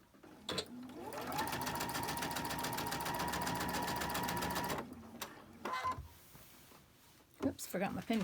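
A sewing machine chain stitches pinned cotton quilt pieces in a steady, fast mechanical whir that runs for about four seconds, then stops, followed by a few soft handling clicks and knocks.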